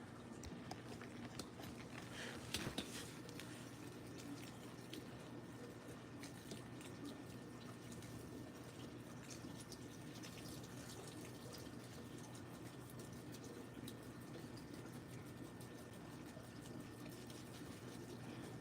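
Water pours steadily onto garden plants, including a fig, while they are watered by hand, a continuous close splashing flow with no voices.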